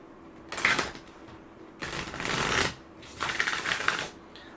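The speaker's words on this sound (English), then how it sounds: "Let's pull some Moonology cards." Moonology oracle cards shuffled up close in three separate bursts of crisp riffling, each lasting under a second, with quiet gaps between and no talking.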